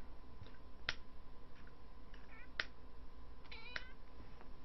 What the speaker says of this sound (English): You can hear my cat there, probably.